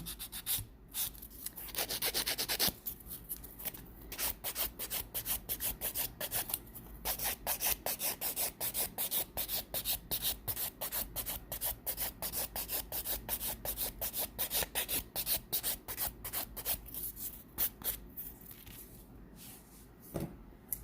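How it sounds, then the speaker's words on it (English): Acrylic nails being filed by hand with a steady, rapid back-and-forth rasping that repeats in quick strokes throughout, close and fairly quiet, with a brief pause near the start and no talking. "Filing."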